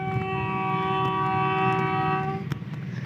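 HBU 20 8050 locomotive heard from the cab on the way to Muzaffargarh: a loud, steady horn blast over a low engine rumble cuts off abruptly near the end, leaving the rumble and a few knocks.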